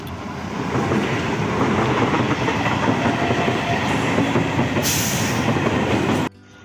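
A passing train rumbles steadily with rhythmic clickety-clack of wheels on rails, loud and close throughout, with a brief hiss near the end before cutting off abruptly.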